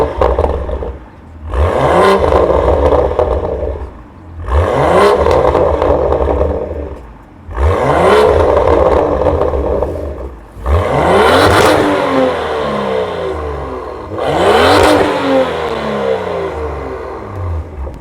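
A mineral grey BMW F87 M2 with a Milltek titanium catback exhaust revs hard in five separate bursts, each rising and falling with crackle between, loud and close with no talking.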